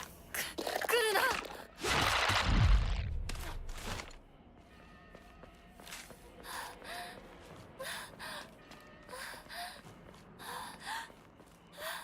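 A game character in Silent Hill f pants and gasps in sharp, breathy bursts early on. Quieter breathing and scattered game sounds follow.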